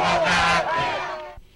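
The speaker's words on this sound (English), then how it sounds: "There was cheering and celebrating on the streets of Caracas" A crowd cheers and shouts in the streets of Caracas, Venezuela, celebrating after voters rejected a referendum by President Hugo Chavez. The voices swell together, then fade and cut off.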